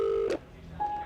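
Telephone keypad dialing tones sound as an ambulance service operator places a call back: two short electronic beeps separated by a brief pause, clear and close.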